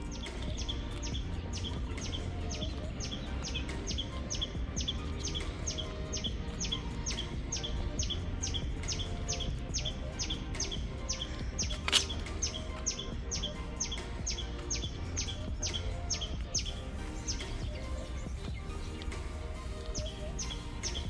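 A bird calls over a steady background hum outdoors on a road trip in Sukhothai, Thailand, repeating short, evenly spaced chirps for about sixteen seconds, moderately distant and fairly faint.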